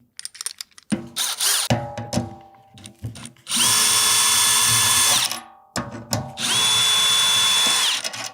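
Cordless power drill fitted with a drum key bit spinning out the tension rods on a snare drum head, several short bursts followed by two longer whining runs at close range, with clicks and handling noise in the gaps.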